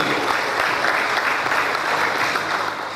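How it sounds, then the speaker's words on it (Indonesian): An audience at a Facebook marketing workshop launch in Serang welcomes speaker Abah Iwan Kurniawan with loud, sustained applause, a thick continuous patter of many hands that stays strong and eases slightly at the very end. "Langsung saja kita sambut dengan tepuk tangan yang meriah untuk Abah Iwan Kurniawan LC."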